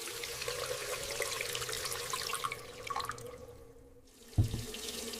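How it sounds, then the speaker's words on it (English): Tap water runs and splashes as tomatoes are rinsed under a kitchen faucet, a steady close flow that fades out near the end before a single soft knock. "I am rinsing some tomatoes."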